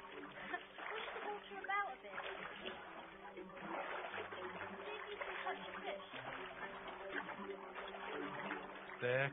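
Water splashes and sloshes repeatedly in a video game pond, with a hand stirring and dipping, while people talk throughout at a Project Natal demonstration at E3 2009.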